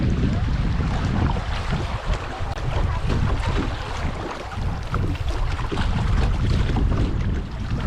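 Wind gusting over the Illinois River in northeast Oklahoma while floating downstream on a warm mid-September day, a loud, continuous broadband rush buffeting close to the microphone, with water sloshing beneath.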